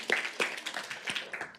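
Sparse, scattered handclaps with a few sharp claps standing out, a small symposium audience applauding briefly.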